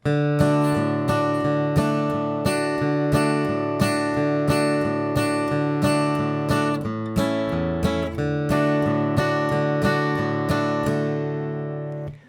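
An acoustic guitar strums "I'll Fly Away" steadily, with bass notes alternating between beats in a bouncy, even rhythm that lasts about twelve seconds before ringing out.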